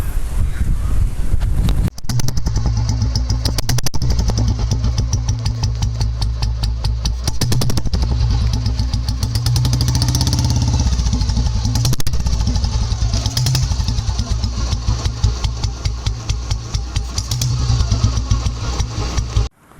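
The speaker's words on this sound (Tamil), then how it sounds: "ஸோ நீங்கள் வந்து எக்ஸாஸ்ட் சவுண்டு கேட்டிருப்பீங்க" Vintage 15-year-old Royal Enfield Bullet 350 Standard fitted with a short silencer, its exhaust thumping loudly and steadily close by throughout, a rapid single-cylinder beat with a brief dip near the start and no talk.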